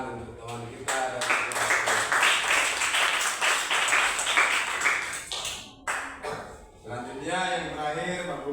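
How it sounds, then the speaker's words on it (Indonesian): Classroom applause for a student group in a fourth-grade Quran lesson, with steady, dense clapping from many hands that rises and holds for several seconds, briefly dips, then returns under a teacher's voice. "Tepuk tangan untuk teman kita dari"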